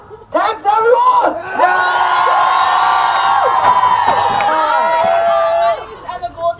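A crowd at a Halifax climate strike cheers and whoops loudly for several seconds, with children's high shouts layered over the sustained roar before it fades out.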